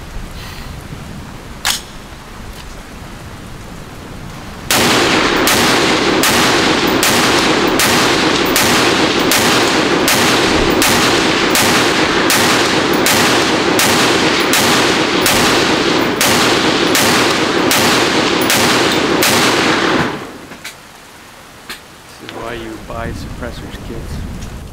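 A 5.56 Honey Badger rifle fires during function testing, giving a long run of evenly spaced, very loud close shots lasting about fifteen seconds, then stopping, with a voice heard briefly afterward.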